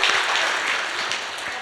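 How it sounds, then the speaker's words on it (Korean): Church congregation clapping during a service, a brief, even burst of applause at moderate distance. "우리 사람 박수 쳐줘."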